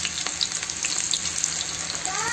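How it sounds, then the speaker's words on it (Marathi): Spinach pakoras fry in hot oil with a dense, continuous close crackle and bubbling, busy throughout without any voices. "बघा मी पालक पकोडे टाकत आहे तेलात।"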